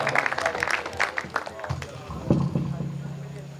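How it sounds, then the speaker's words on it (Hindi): Audience applause at a spiritual poetry gathering in a village in Narsinghpur district, a short burst of clapping mixed with a voice over it, then fading as talk continues. "जोरदार ताली"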